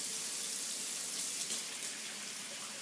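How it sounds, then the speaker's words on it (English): Running water from a kitchen tap as hands are rinsed, a steady close splashing hiss that holds evenly for about three seconds, with no talking. "Rinse my hands again."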